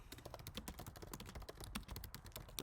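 Fast, steady typing on a computer keyboard at a terminal, with dense close clicks of keys running without pause and no voices.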